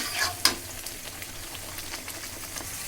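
Peanuts with chili, coriander and cumin powders fry in a pan while being stirred, a close crackling sizzle with a couple of sharp scraping clicks near the start, brief and without talk.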